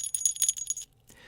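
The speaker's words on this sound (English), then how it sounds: "Can you hear my jingle bells, by the way?" Small jingle bells shake in quick bright bursts for under a second, close and fairly loud, then stop.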